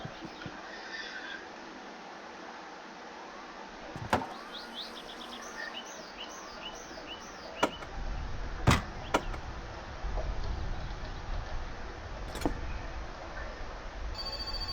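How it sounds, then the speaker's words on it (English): A telephone rings inside the video game My Summer Car, a repeated electronic bell-like ring heard a few times over low engine-like rumble and ambient game noise, fairly distinct but mid-level. "Uh-oh, what's this? Sounds like a telephone."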